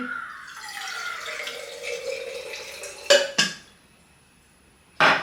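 Water pours from a bottle in a gurgling stream whose tone shifts in pitch for about three seconds. It ends with a couple of sharp knocks, a quiet pause, then another clatter, with no voices.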